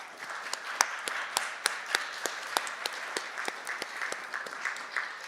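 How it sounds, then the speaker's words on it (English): An audience at a nuclear justice event applauds its panelists with scattered, fairly sparse claps that sound a little distant and stay moderately quiet throughout. "let's give another round of applause for our panelists"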